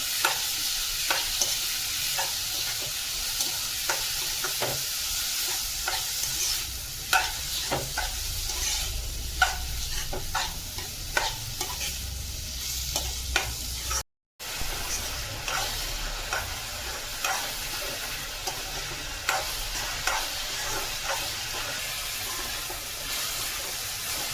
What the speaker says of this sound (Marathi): मस्त पैकी परतून घ्यायचा आहे आपल्याला कांदा.